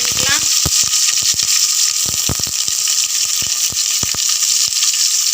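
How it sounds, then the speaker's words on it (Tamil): Onions dropped into hot oil with whole spices and bay leaf for chicken biryani, a loud burst of sizzling that settles into a steady bright hiss, punctuated by sharp pops and clacks of a utensil against the pan. "அது கூட எடுத்து வச்சுருக்க வெங்காயத்தை ஆட் பண்ணிக்கலாம்."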